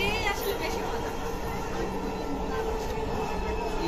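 Dhaka metro rail train running, heard from inside a carriage as a steady rumbling rail drone with a faint high whine, continuous and close, with a voice murmuring under it.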